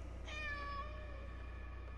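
A single clear cat meow in the Layers of Fear Inheritance video game, one drawn-out call lasting about a second over a low steady hum, fairly quiet and alone.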